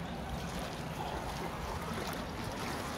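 Ocean waves at a beach resort make a soft, steady wash of surf, faint and continuous, with a little wind rumble throughout.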